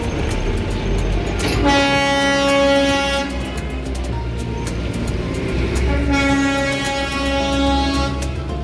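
Rumbling steadily past at close range, the Darjeeling toy train blows two long horn blasts, one early and one near the end, separated by a stretch of rolling wheel noise.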